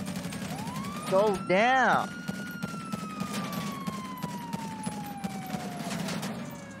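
Gunfire in GTA 5 rattles in a steady stream of quick shots under a rising and falling police siren, with a voice speaking briefly over the shooting.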